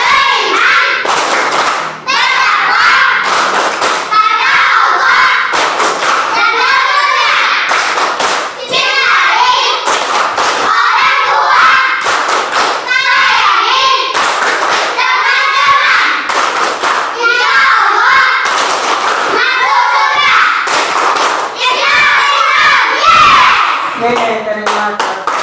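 Schoolchildren in an Indonesian classroom perform the Tepuk Islam clapping chant, a loud, steady run of rhythmic hand claps with children's voices chanting along throughout, ending in a final burst of claps.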